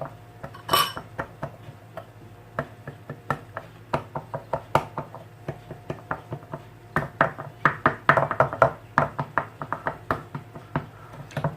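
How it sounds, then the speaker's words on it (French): A fork repeatedly pricks quiche pastry dough in a tin, making a quick series of close, sharp taps and clinks on metal and a hard surface with no voices. "on va transpercer notre pâte comme ceci avec une fourchette"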